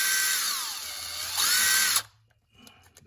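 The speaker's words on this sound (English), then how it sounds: "we're trying to drill out the piece that fell in there" A power drill bores out a broken piece stuck in a threaded hole, whining loudly with pitch sweeps for about two seconds, then stopping abruptly, followed by a few faint clicks and taps.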